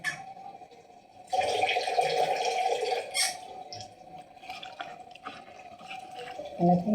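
A little water is poured into about a cup of flour mix that is being kneaded. Soft pouring and dripping splashes come in uneven bursts, quiet and close, with gaps of near silence between them.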